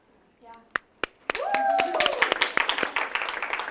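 During a clinical training session, a few sharp hand claps start out sparse, then build into brief, close clapping from a small group, overlapped by talking.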